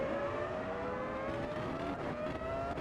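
Formula V10 Gen 1 race car engine in Automobilista 2 holding a high, loud whine with a slight stutter and flutter in the tone, close and continuous without talk.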